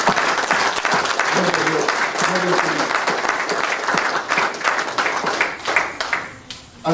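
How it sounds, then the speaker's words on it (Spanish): A church congregation applauds steadily and loudly, dense clapping filling the room from start to finish and tapering near the end, with voices mixed in under the applause. "podemos darles un aplauso a estos hombres y mujeres"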